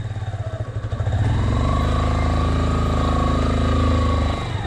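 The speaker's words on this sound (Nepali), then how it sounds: "त्यो बाइक आउँछ बाइक हुनु पऱ्यो होइन एकछिन मात्रै आउँछ बाइक" A motorcycle nears on a road in Lele. Its engine swells after the first second into a loud, sustained roar close by, then cuts off sharply near the end.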